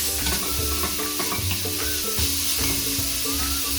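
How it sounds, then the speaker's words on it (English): Green pepper frying in a tablespoon of oil for a vegetable Spanish omelette sizzles loudly and continuously, with scraping and stirring in the pan close by. "I put a tablespoon of oil. Then you add in your green pepper. Mix."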